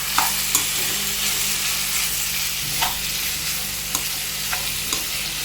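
Bean curry with tomato being stirred in a pan: a constant loud sizzle with sharp spoon taps and scrapes against the pan every second or so, no talking.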